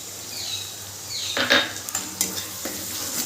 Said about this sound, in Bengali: সর্ষে বাটাটা দিয়েও সামান্য একটু নাড়াচাড়া করে আমি জল দিয়ে দেব